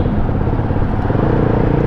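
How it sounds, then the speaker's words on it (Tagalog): A 2024 Rusi Flash 150X motorcycle engine runs loud and close, its rough low drone pulsing unevenly as it jerks under throttle, with no voices. "Kumakadyo talaga yung motor"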